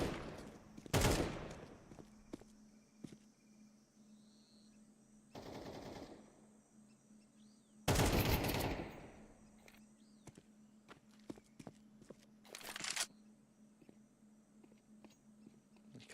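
Bursts of AK rifle fire in a Counter-Strike match, four distinct loud volleys separated by quiet gaps with scattered footsteps and faint clicks between them.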